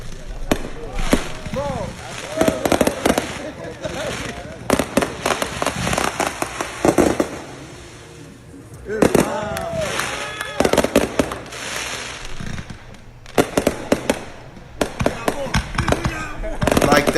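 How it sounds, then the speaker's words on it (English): Neighbors' fireworks going off in long rapid bursts of cracks and bangs, with crackling volleys and a few louder booms carrying on through the stretch outdoors. "we had some fun yesterday, and the fireworks was crazy. This was the neighbors."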